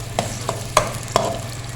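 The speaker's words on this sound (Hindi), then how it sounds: "प्याज को हमने सिर्फ सौते करना है, ठीक है। इसका कच्चापन ख़त्म करना है, इसको गोल्डन नहीं करेंगे।" Onions sauté in a pan for fried chana dal, a steady low sizzle broken by several sharp clinks and scrapes as a spoon stirs them, close and clear with no talking.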